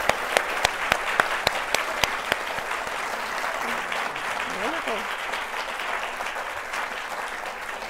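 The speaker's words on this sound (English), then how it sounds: "please give a round of applause to our panelists." An audience applauds panelists at the close of a museum conference on restoring the Indigenous voice in early America. The clapping is dense and sustained, with sharp individual claps near the start, and a brief spoken word comes over it.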